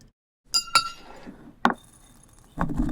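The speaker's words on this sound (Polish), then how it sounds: "Rozbijcie kilka jajek do miski." Eggs cracked into a bowl while making a potato batter for chicken breast: two sharp clinks close together, a third crack a second later, then a rustle of handling. No talking.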